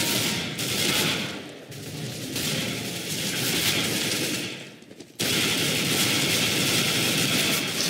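FAMAS assault rifle fire in Counter-Strike: GO, loud sustained automatic bursts of rapid cracking shots, broken by a brief pause before another long continuous burst resumes.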